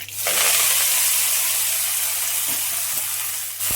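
Fresh fenugreek greens dropped into hot oil with popping mustard seeds, a loud steady sizzle and hiss that starts abruptly and holds for several seconds before easing slightly.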